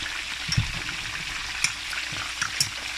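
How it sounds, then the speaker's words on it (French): Pieces of goat meat fry in hot oil with a continuous crackling sizzle, close and steady, with a few soft stirring knocks and pops. "vous mettez votre morceau, vos morceaux de viande dans l'huile. Puis on va faire frire ça."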